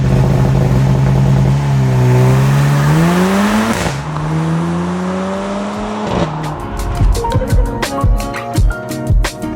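A 2024 Mercedes-AMG GLC 43 with a 416-horsepower four-cylinder engine accelerates hard, its loud rising engine note climbing through gear changes, then quick sharp pops and crackles on lift-off.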